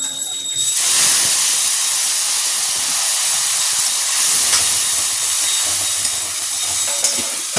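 Black cumin, ground spice paste, tomato and green chili dropped into hot oil, bursting into a loud, close, steady hiss that holds evenly for several seconds with no voices.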